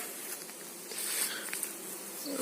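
Honeybees buzz steadily in a close, continuous hum at an apiary in light rain, with a few louder passes of individual bees and a soft patter in the background.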